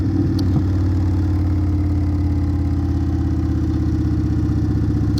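A 2021 Indian Scout motorcycle with a Hacker Mayhem exhaust idles steadily, a loud, deep, rhythmic engine rumble close to the listener, with no voices over it.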